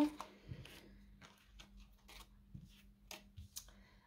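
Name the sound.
tarot cards being shuffled for a reading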